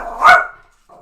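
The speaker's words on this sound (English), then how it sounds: "You offended the dog" A dog gives a single sharp, loud bark close by, followed by a brief quiet pause.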